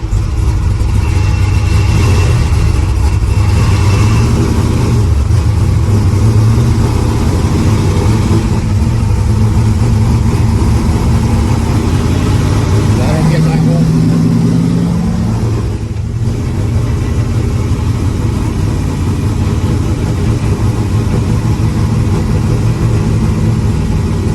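A car engine fitted with a big cam idles roughly, a loud, close, lumpy low rumble that wavers unevenly and swells briefly, with no talking over it.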